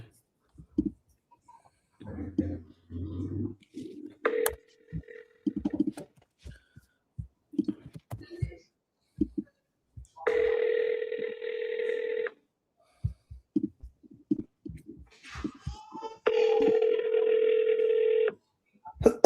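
Telephone dialing tones sound during a phone call on a live selling call, with two long, steady tone bursts standing out over scattered clicks, taps and brief background noise.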